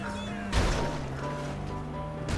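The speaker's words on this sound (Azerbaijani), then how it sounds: "Ola, kompres maşını əzdi." A car crushed by a press in GTA 5 (a VAZ 2107 Lada mod): a sharp loud crunching impact under a steady engine drone, then a fainter second hit near the end.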